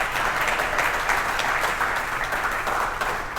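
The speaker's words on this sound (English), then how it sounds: "give a real round of applause" Sustained round of applause from an audience at a talk, many hands clapping in a dense, steady wash that holds evenly throughout without any talking on top.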